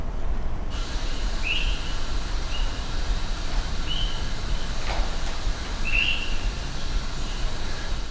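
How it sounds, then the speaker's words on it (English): Swainson's thrush giving short, sweet call notes at night, a few brief chirps spaced a second or two apart over a steady, quiet background hiss. "Here is the sound of the Swainson's thrush at night."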